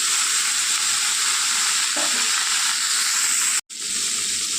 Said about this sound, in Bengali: ভালো করে সবজিটা ভেজে নেব